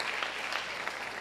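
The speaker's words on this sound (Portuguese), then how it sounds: "Palmas ao Senhor" A church congregation claps for the Lord after a prayer, producing a steady, dense wash of applause. It holds at an even level across the short stretch, with a few sharper claps poking out above it and no voices on top.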